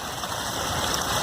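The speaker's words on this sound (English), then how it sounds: "I like the water spraying to the back of the box much better" Water sprays toward the back of a home-built mini highbanker box, a loud, continuous rushing hiss close to the microphone.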